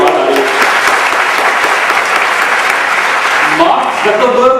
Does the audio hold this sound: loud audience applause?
yes